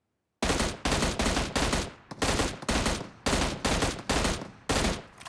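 Gunfire in a mobile shooter game rings out as about ten loud, evenly spaced shots, each with a sharp crack and short decaying tail, no voices.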